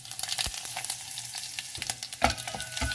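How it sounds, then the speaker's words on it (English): Mustard seeds splutter in hot oil as a rasam tempering begins, a steady close crackle broken by several sharp, loud pops spaced through the moment, with no voices. "add in mustard seeds. Let them splutter"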